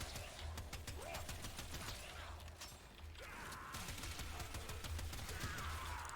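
Rapid, repeated shotgun blasts in the video game Warframe, a dense crackling barrage with mechanical clicks, quiet and continuous throughout.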